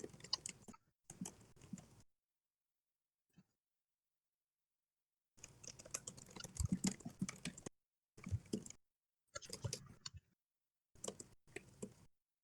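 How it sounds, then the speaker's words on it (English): Someone types on a computer keyboard in short clattering bursts of rapid key clicks separated by silent pauses, quiet and close, with no talking. "So Fox is typing on some rules."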